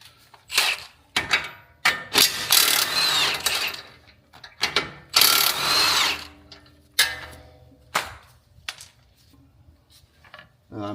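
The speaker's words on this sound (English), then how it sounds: "So we're going to get these nuts loosened up." Wrenches loosening the suspension nuts on a 2026 Explorer ST during a lowering-spring install, heard as a series of close, sharp metallic clanks and ratcheting bursts separated by brief pauses.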